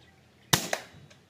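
A PCP air rifle fires a single sharp crack outdoors in windy conditions during a coconut-tree shoot, followed by a quick smaller snap and a fading tail, with faint background noise.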